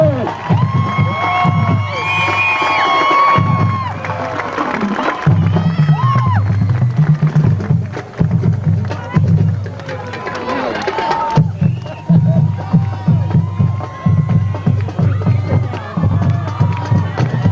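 A crowd cheering, whooping and clapping for the band kids at a city music event, loud and sustained, with voices and babble mixed through it.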